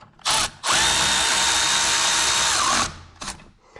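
A Kohler 20 HP V-twin engine on a Lesco zero-turn mower whirs briefly, cuts out, then revs in a loud, close, high-pitched whine for about two seconds before stopping abruptly.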